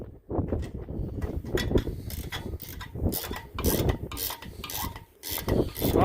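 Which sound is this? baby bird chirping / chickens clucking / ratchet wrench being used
ratchet wrench being used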